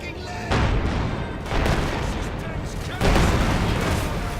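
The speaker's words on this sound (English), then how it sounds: "Our headquarters is taking enemy fire." Gunfire and explosions strike a headquarters in the World War II strategy game Company of Heroes 2, a dense roar of battle that surges louder in three distinct waves.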